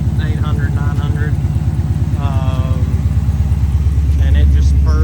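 A Ford Coyote V8 swapped into a New Edge car idles steadily close by, giving a low, even throbbing burble. Someone talks over it, and the engine note deepens slightly near the end.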